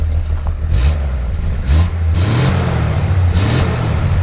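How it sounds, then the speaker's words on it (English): A 1963 Ford F100 Custom Cab engine revved several times up close, deep rumbling idle rising into repeated throaty surges. "go ahead and rev it up a little bit."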